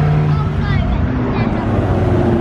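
McLaren 600LT supercar leaving a supercar weekend gathering at Beaulieu, its engine droning steadily and loudly nearby while crowd chatter and a voice carry underneath.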